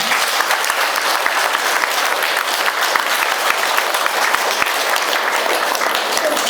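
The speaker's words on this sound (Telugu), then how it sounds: "గట్టిగా చప్పట్లు కొట్టండి." An audience claps loudly and steadily, a dense, continuous wash of many hands close by with a faint crowd murmur underneath.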